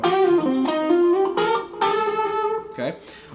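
A guitar plays a short solo phrase with two descending string bends, the notes sliding downward with sustained, ringing tone and clear attacks, close and prominent with no talking.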